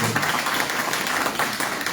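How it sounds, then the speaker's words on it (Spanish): Audience applause at a Peruvian economics conference as a doctor is introduced to the head table, a steady, fairly soft patter of clapping filling the brief moment. "Un cálido aplauso para el doctor Edgar Manuel Vázquez"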